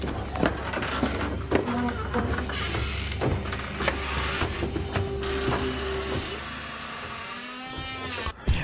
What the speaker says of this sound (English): What the fuck is this squeaking noise?